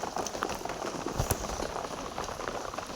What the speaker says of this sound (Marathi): आत्ता चालू आहे बरं का पाऊस थोडा थोडा रिमझिम रिमझिम येतोय